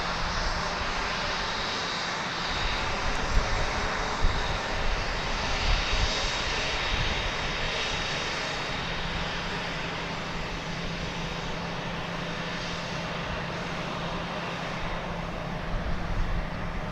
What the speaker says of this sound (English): You're about to see a Delta Airbus A319 intersect your view there.